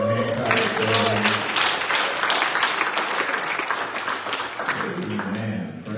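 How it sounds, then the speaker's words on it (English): Congregation clapping in praise during a church service, a dense wash of applause that swells through the middle, with voices and speech running underneath at the start and end. "give God another hand clap of praise."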